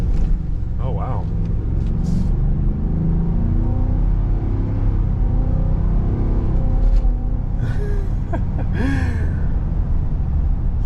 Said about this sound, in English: It definitely sounds like a truck engine for sure.